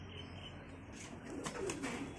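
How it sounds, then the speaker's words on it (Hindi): Roller pigeons in a loft give soft, low cooing calls, faint and somewhat distant, with a slight rise in the second half and a few brief higher chirps. "यहां पर अभी कुछ कबूतर आपको बैठे हुए नज़र आएंगे"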